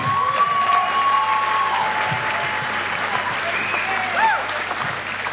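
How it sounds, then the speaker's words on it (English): A crowd at a kickboxing event applauds steadily with dense, sustained clapping and some cheering, loud and continuous throughout, with a few whistles rising above it. "big round of applause for both fighters."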